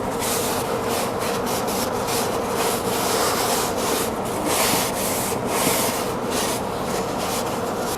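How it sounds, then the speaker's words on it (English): Cloth wiping excess wood stain from a handmade old-time wooden carpenter's toolbox, a steady close rubbing with brisk repeated strokes, continuous and alone with no talk. "and then I'll wipe the excess off. I'll take some of that excess off the inside."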